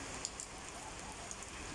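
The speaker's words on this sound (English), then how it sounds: "So with this kind of rain that it is intermittent" Light, intermittent New Year's rain falls at a villa in the UAE, a faint, steady patter with a few distinct droplet taps, heard alone.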